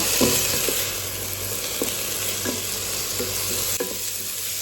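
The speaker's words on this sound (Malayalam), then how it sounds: "ഇഞ്ചിയും വെളുത്തുള്ളിയും കൂടി ടേസ്റ്റ് ഇതിനകത്ത് ചേർക്കുക ഒന്ന് മിക്സാക്കി കൊടുക്കുക" Onion, ginger and garlic frying in a pan for a chicken curry, with a steady sizzle and a spoon scraping and stirring in repeated strokes, close and alone without voices.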